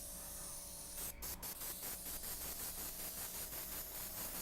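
An airbrush spraying paint, a soft steady hiss with quick pulsing bursts as the trigger is worked, faint and close, with no talking over it.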